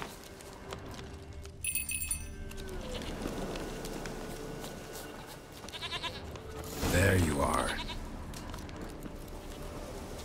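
A goat bleats repeatedly in The Witcher 3 on a mountain, the calls standing out over steady game ambience and music while someone talks briefly.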